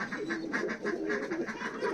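Giribaz pigeons in a fancier's loft coo in soft, rapid rhythmic pulses, a continuous warbling chorus close by with no talking.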